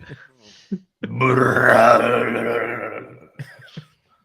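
A long, loud, rumbling belch lasting about two seconds, framed by brief bits of voice before and after.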